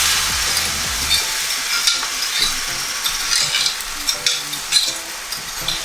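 Turkey slices and eggs frying in a pan, a loud, close crackling sizzle with bursts of spitting oil and some stirring, continuous with no talk.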